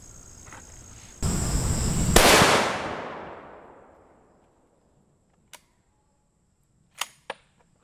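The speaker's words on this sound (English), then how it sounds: "Here's our shot from our 338 Ultra Mag right here." A single loud rifle shot from a .338 Ultra Mag fired at Level III+ body armor cracks sharply and rolls into a long fading echo, followed by a few faint distant clicks.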